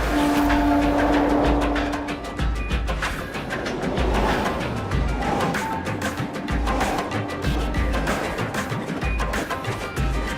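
A train on Mumbai's crowded suburban railway rumbles loudly and continuously, with a sustained horn-like tone near the start and rhythmic low clatter throughout, no voices.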